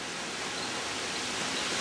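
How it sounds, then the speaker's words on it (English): Outdoor wind buffets a microphone beside a 2000 Mitsubishi Galant SOHC 4G64 under repair, giving a continuous broadband roar that stays loud and even throughout without any voices. "Excuse the wind."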